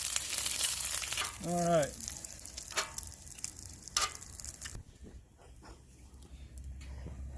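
Bacon frying on a Camp Chef Explorer 2X double-burner camp stove gives a steady crackling sizzle, loudest at the start and easing off later, with a short spoken phrase and a few clicks and knocks partway through.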